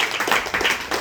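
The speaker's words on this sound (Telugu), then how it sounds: "Very good very. క్లాప్స్ కొట్టండి." Schoolchildren applaud in a classroom, a dense burst of many hands clapping steadily in quick pulses, loud and close, with no talking over it.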